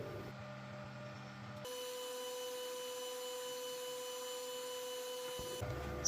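A sewing machine hums steadily while stitching a strap onto a handbag made from a gift bag, a continuous even drone that starts and stops abruptly.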